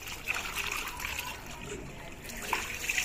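Tap water trickles and splashes steadily in a home kitchen while greens and a bar of soap are rinsed, a continuous running-water hiss with small splatters throughout.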